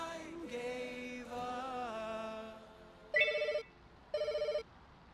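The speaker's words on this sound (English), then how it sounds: "Yoki, pick up the ringing phone." A telephone rings in the pet-care simulation game Pets Hotel, two short bursts of electronic trilling, loud and close, following a stretch of softer chiming game tones.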